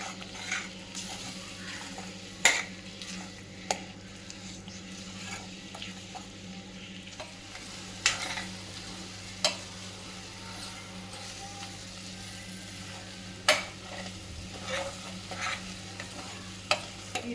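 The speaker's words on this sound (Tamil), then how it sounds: "ஸ்லோவில் வச்சு வதங்கணும் அடிப்பிடிக்காமல் கலந்துகிட்டே இருக்கணும்" Scrambled egg masala sautés slowly over low heat in a pan, a faint continuous sizzle broken by sharp, evenly spaced scrapes and taps of a spoon as it is stirred, with no voices.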